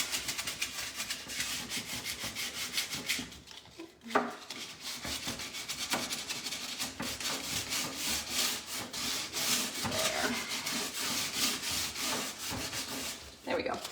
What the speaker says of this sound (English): the more I sand and distress that